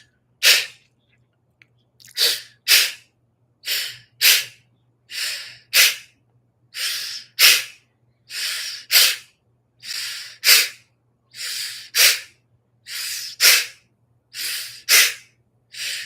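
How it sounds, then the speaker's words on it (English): Strong breaths hiss in and out through the teeth in a meditation exercise, a close, steady rhythm of paired inhale-exhale bursts repeating about a dozen times with short silences between. "we'll take a short, strong breath in through the teeth, and then a strong exhale out through the teeth"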